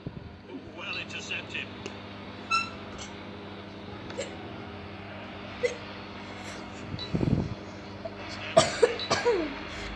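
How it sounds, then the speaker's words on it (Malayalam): A person coughing a few times close by during a football game stream, short sharp bursts spaced apart over quiet background noise, with a brief vocal sound near the end. "ചെങ്ങായി ചുമച്ചത് കേട്ടോ"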